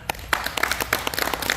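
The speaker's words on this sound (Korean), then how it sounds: "큰 박수로 맞아주시기 바랍니다" A church congregation at a Korean holiness church elders' retreat revival applauds to welcome a pastor, a short burst of many hands clapping at moderate distance.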